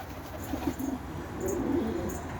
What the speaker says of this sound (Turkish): Kuşlarımız bu şekilde görüyorsunuz zaten.